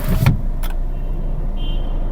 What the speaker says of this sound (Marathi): आता काचं लावलेत